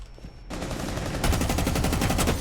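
Rapid automatic gunfire in the Rainbow Six Siege video game, a dense, loud burst of shots that grows heavier partway through and continues to the end.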